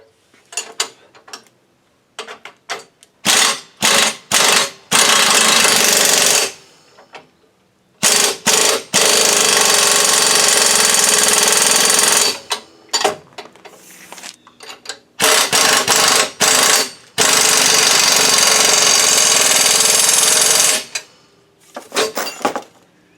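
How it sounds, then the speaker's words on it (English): Bolts on Jeep Wrangler tow bar hardware are tightened in short, loud, clattering mechanical bursts, close by, separated by gaps of near quiet. "And then we'll tighten down all this hardware here."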